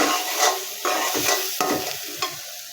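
Boal fish goes into a pan of fried spice paste, with a steady close sizzle and frying hiss broken by several scraping stirs; no talking.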